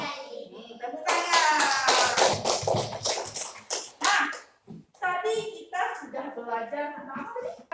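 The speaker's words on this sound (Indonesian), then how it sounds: "Tepuk tangan." Children in an Indonesian classroom clap their hands in quick bursts of sharp taps, close and lively, mixed with a teacher's voice and children speaking.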